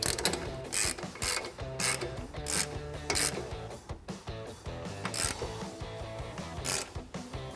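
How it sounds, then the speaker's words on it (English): A half-inch drive ratchet with a 22mm socket tightens a shock bracket bolt during a front leveling kit install on a Ford F-250, giving a steady run of rhythmic clicking strokes, close and clear, with no talking. "I'm gonna take my 22mm wrench, my 22mm socket on my 1/2" drive ratchet and tighten this up"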